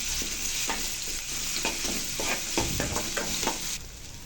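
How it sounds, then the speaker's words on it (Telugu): Ginger garlic paste and turmeric stirred in a frying pan with curry leaves, a continuous loud sizzle with rhythmic spatula scrapes and clacks throughout, no voices. "అల్లం వెల్లుల్లి పేస్ట్, కాస్త పసుపు వేసి కలుపుకోవాలండి."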